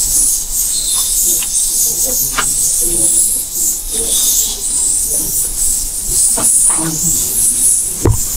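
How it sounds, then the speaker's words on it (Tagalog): Birds calling outdoors on an island in Mindoro, scattered short chirps over a steady hiss of wind or surf, with people speaking intermittently and brief sharp noises near the end. "Rinig na yung mga ibon."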